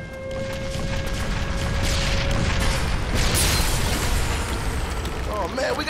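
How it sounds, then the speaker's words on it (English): Mortar explosions in the video game 50 Cent: Blood on the Sand, heard as a constant, heavy roar of booms and rumbling blasts throughout, with shouting voices mixed in. "Mortars!"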